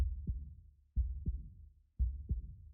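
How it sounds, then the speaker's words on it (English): An alien creature's heartbeat pulses in the video game Vet and the Visitor, three slow, deep lub-dub double thumps about a second apart, close and isolated against silence. "Oh, that's a heartbeat."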